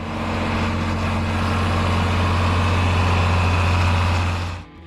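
A John Deere 4020 tractor engine runs steadily and loudly at close range, a deep, even drone with a low hum, holding for nearly five seconds before cutting off abruptly.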